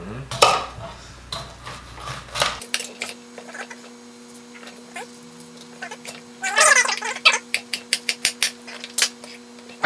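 Spoon scraping and clinking in a bowl as mac and cheese is stirred together with garden cucumber, with irregular clatters and wet stirring sounds and brief talk early on.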